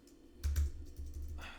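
A few soft, close clicks on a German-layout computer keyboard as someone types briefly, with a muffled thump among the keystrokes.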